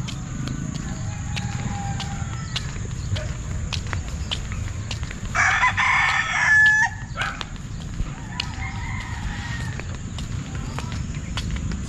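A rooster crows nearby over a steady outdoor hum, with chickens clucking and soft footsteps around it.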